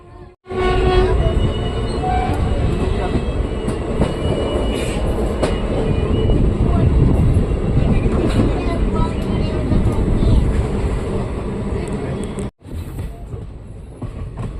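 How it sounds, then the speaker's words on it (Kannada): The Sheshadri Express pulls into Bangarapet Junction with a loud, sustained roar of rolling wheels and carriages and a horn blast, and voices can be heard over the rumble. "1 ಗಂಟೆ ಲೇಟಾಗಿ ಬಂಗಾರಪೇಟೆ ಜಂಕ್ಷನ್ಗೆ ನಮ್ಮ ಟ್ರೈನ್ ಎಂಟ್ರಿ ಆಗ್ತಿದೆ"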